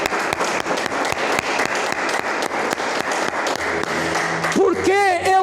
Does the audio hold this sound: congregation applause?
yes